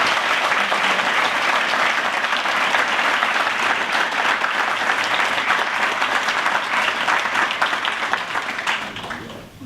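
Sustained applause from an event audience at an energy awards ceremony honoring Governor Snyder, dense steady clapping throughout that tapers slightly at the end.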